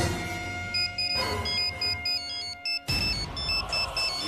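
An electronic ringtone chirps in repeated short high-pitched bursts over a low background hum, with a brief gap midway before the ringing resumes.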